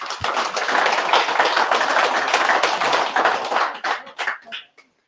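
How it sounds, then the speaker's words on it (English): Audience at a kayak fishing tournament awards gathering clapping for a team, a dense burst of handclaps that holds steady and then thins out to a few last claps and stops. "So give them a round of applause"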